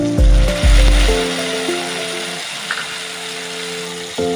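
Ginger paste hits frying masala for an omelette curry, a steady close hiss of sizzling opened by a few heavy thuds and a metallic clank, with faint ringing tones in the background.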